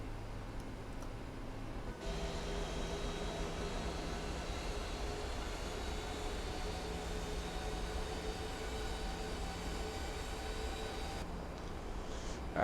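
Landing gear lowering on a United 737-700 in the Prepar3D flight simulator: a sudden rise into a steady mechanical rumble and rushing roar that holds for about nine seconds, then cuts back to a quieter cabin hum.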